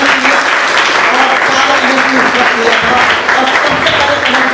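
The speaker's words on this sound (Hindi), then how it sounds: "इनके लिए एक बहुत बड़ा ताली, जबरदस्त ताली" A live audience applauds loudly and steadily at a crypto and NFT event, dense clapping filling the whole stretch, with a presenter's voice faintly audible underneath.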